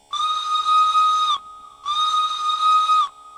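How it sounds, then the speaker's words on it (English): Two long steam whistle blasts from an S060 steam shunter in the Derail Valley simulator game, each over a second, with a short pause between them, shrill and hissing, sounding alone and fairly close. "I was not expecting to hear a little bitty horn"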